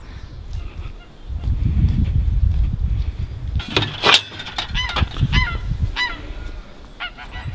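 Geese at an old reservoir in early spring give loud, close honks in a rapid cluster, repeated calls overlapping above a low rumble of outdoor background noise.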